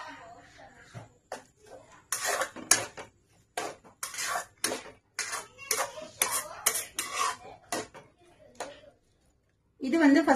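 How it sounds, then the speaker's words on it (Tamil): A spoon scraping and clinking against a pot while wheat rava masala kichadi is stirred after water is added, in a series of close, sharp metallic strokes with brief pauses and a voice speaking toward the end. "இது நல்லா கிளறி விட்டுட்டு வேக வச்சிரலாம்"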